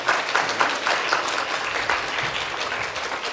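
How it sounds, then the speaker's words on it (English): Audience applause for a panel at a workshop event, a steady wash of many hands clapping that holds for several seconds at moderate volume. "big round of applause for the panel"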